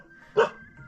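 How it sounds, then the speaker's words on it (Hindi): A dog barks once at night in a hilly rural setting: a single sharp bark at moderate distance against an otherwise quiet background. "तो रात अभी लगातार कुत्ता भौंक रहा है।"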